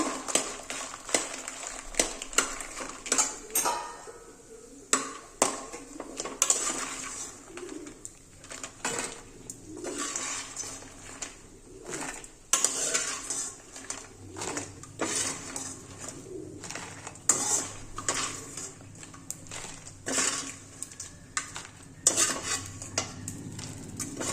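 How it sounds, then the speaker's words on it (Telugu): Fried food being moved from a pan into another dish in a home kitchen for a spicy snack, with repeated metal clinks and scrapes of utensils against cookware over a steady background hum, birds cooing faintly nearby. "ఇవి ఫ్రై అయినాయి కదా మనం వేరే ఒక దాంట్లో ట్రాన్స్ఫర్ చేసుకుందాం అన్నమాట"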